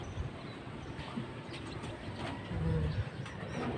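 Pigeons coo in a few soft, low bursts close by, over a steady background rumble that sounds like a train passing, with no voices.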